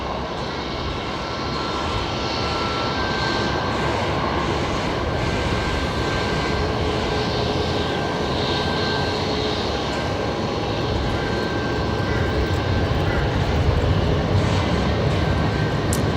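A jet airliner rolls for takeoff at Brisbane Airport, its engines a steady, broad roar that slowly builds in loudness, heard at a distance with no talk.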